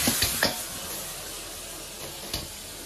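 Cauliflower stir-fried with minced pork in a wok gives a steady low sizzle and hiss, with a few soft scraping stirs near the start and another near the end, and no talking.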